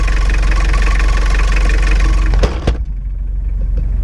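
A 1994 Mitsubishi Delica Starwagon 4X4 turbodiesel idles loudly with its engine cover open, a steady close rumble that suddenly drops away into a quieter hum.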